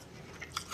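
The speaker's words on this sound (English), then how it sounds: "chewing a little bit of ice here" Ice being chewed: sharp, close crunches and brittle cracks in quick succession over a faint background, with no talk.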